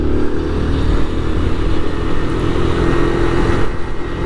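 Kawasaki Z125 motorcycle ridden around a residential neighborhood, its small engine droning steadily and loudly close by with a rough, buzzy tone, no talking.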